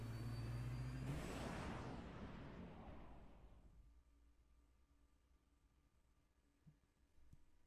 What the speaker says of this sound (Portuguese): Pegaram o jato e vazaram.